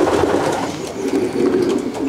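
Racing pigeons in a loft coo steadily, a dense overlapping murmur of soft throaty calls filling the space at close range, with no talking.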